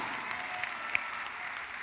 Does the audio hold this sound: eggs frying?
no